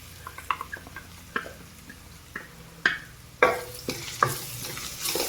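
Ginger garlic paste fries with onions in a pan for spicy prawn fry, a crackling sizzle broken by irregular spatula knocks and scrapes that grow louder and busier toward the end.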